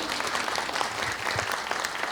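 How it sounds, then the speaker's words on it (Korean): Brief applause from the audience at a year-end saxophone concert evening in a Namwon hotel, welcoming a guest, steady clapping with a faint murmur. "열렬한 박수로 환영해 주시면 고맙겠습니다"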